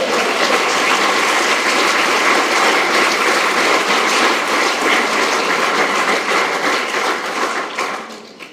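Audience applause for a speech on restoring voting rights: dense, sustained clapping from a crowd that holds steady, then fades out near the end.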